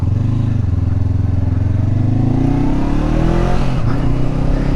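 A Honda CBR 500R parallel-twin motorcycle fitted with a loud aftermarket pipe revs up steadily, its close, throaty engine note rising in pitch and holding loud throughout.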